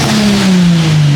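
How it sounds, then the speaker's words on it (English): A car engine with a turbo, a tuned BMW F80 M3, revs hard, a loud close roar whose pitch slides down over about a second, with no talking. "the turbo sounds sick"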